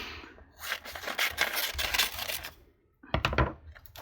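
Paper being cut for a collage with scissors, a few close rustling snips and scrapes in two bursts separated by a short pause, with no talking.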